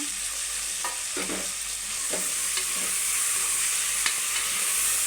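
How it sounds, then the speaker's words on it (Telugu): Mint, coriander, curry leaves and green chillies stir-fried in a pot for mutton pulao: continuous close sizzling with a handful of sharp spoon scrapes and stirring knocks, no talking. "వేసి కలుపుకోవాలి. కొద్దిగా పచ్చి వాసన పోయిన దాకా అయితే వేయించుకోవాలి."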